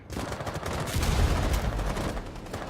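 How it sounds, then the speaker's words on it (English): Gunfire from a Rainbow Six Siege tournament match rattles in dense, continuous bursts that hold at a steady, moderately loud level across the short span, with no talk over it. "He has some shooting going on here."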